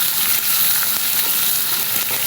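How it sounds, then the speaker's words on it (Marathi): Onion, tomato and cumin sauté in a hot pan, giving a loud, steady, dense sizzle that continues unbroken with no voices. "कांदा आणि टोमॅटो जिरे वगैरे आपली फोडणी आहे ती छान अशी परतत आहे"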